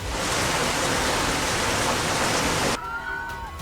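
Heavy monsoon rain pours down on the Karnataka coast near Mangaluru, a dense, loud, unbroken roar that cuts off abruptly, leaving quieter ambience with faint tones.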